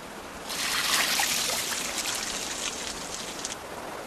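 Water trickles and splashes steadily over specially designed wooden racks where ice farmers grow clean ice in the cold, a continuous close rain-like patter with no voices.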